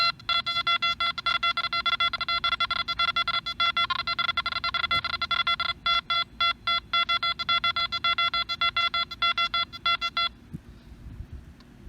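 A Nokta Makro Anfibio metal detector sounds rapid, closely spaced target tones as it sweeps over several targets, the beeps pulsing in a fast, stuttering rhythm before cutting off abruptly.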